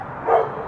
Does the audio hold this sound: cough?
no